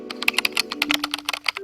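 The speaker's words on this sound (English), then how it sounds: "and he is typing" Rapid keyboard typing from the game While True: Learn(), a dense run of close, crisp key clicks at an uneven rhythm with a faint steady hum underneath.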